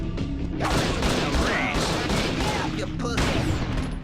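Sniper rifle fire in the Judge Dredd vs Death video game, loud close blasts and cracks in a dense rapid volley over a rumbling game soundscape.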